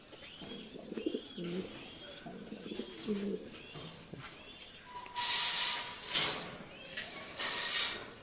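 Baghdadi cross pigeons in a loft, cooing in low, soft repeated phrases nearby, followed by bursts of rustling and wing flutter, with faint chirps in the background.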